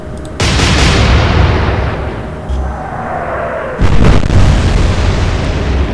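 Naval guns fire shells in the Atlantic Fleet video game: a heavy booming salvo hits, rolls on, and two more loud blasts follow, each trailing into a long roaring rumble.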